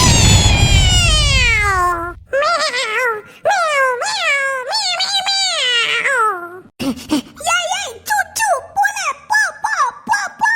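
A cartoon cat meows repeatedly in a ghost-house animation, with long rising and falling cries in a close, loud series, preceded by a low rumbling burst.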